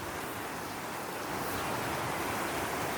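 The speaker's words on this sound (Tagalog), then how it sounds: "ang lakas ng alon, oh." Strong ocean surf at Masasa Beach, Tingloy, Batangas, roars continuously, a dense wash of crashing water that swells slightly louder toward the end, with no voices.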